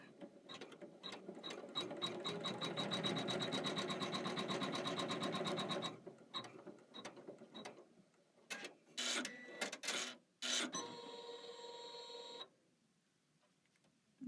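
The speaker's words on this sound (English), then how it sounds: "we stitch down this placement line right here" An embroidery machine stitches a placement line on a Kimberbell embroidery-by-number project, a fast steady rattle of needle strokes for several seconds, then stopping and starting in short bursts with a couple of electronic beeps near the end.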